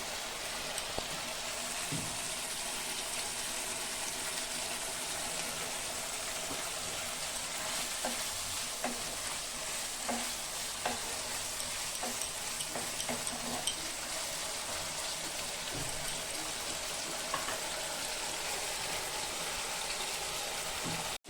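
Tel potol, pointed gourd cooked Bengali style in mustard oil, sizzles and bubbles steadily after raw mustard oil goes into the pan, a soft, continuous fry with occasional light utensil taps.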